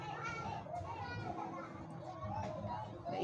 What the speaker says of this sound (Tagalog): Naingay po yung mga bata sa likod.